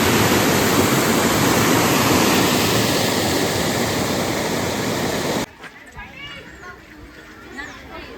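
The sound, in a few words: small waterfall with fast-flowing water at zoo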